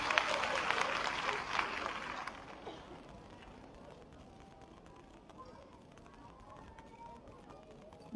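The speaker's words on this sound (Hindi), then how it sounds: "एक बार जोरदार तालियां हमारी सभी बहनों के लिए" A crowd at a government app launch and printer distribution event for village women claps loudly for about two seconds, then the applause thins into scattered claps and murmuring room noise.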